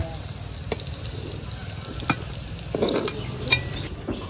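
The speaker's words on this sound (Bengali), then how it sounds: "আমি সাদা তেলেই পটলটা ভেজে নেব" Pointed gourd (potol) pieces coated in salt and turmeric fry in white oil, giving a constant soft sizzle with occasional clinks and scrapes of stirring.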